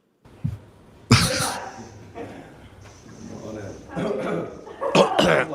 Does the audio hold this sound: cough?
yes